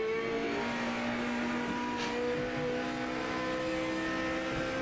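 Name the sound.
GT500 car engine accelerating, Project Motor Racing video game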